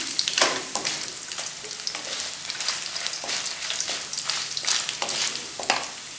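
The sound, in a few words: green chillies frying and being sautéed in oil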